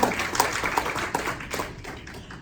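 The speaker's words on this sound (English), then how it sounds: "So can we just give a round of applause to them?" Audience at a university Ph.D. defense giving a round of applause, many hands clapping in a room, starting strong and gradually thinning out toward the end.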